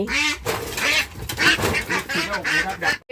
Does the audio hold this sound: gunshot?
no